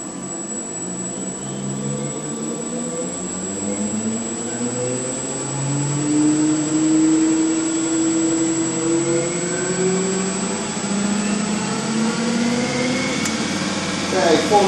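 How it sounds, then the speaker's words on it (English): An electric vehicle motor driving a ZF automatic gearbox is gently throttled up, its whine rising slowly in pitch over a steady high electrical tone and a low rumble. "let me just run her up just gently in power here now."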